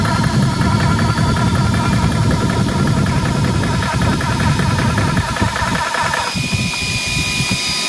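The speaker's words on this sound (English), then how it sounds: "we'll turn the compressor on and we'll watch. The fan's winding up" A TOAUTO A3 portable PCP air compressor running loud and close, with a steady droning motor hum and whirring fan, and a brief shift in tone near the end.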